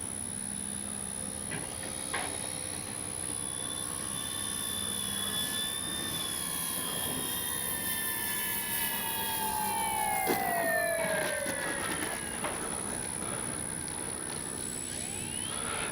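An RC P-38 model airplane, a Flightline 1600mm warbird with landing gear and flaps down, passes by on a low flyby at a flying field, its engine whine rising and then shifting pitch as it goes past at moderate distance, with steady background noise.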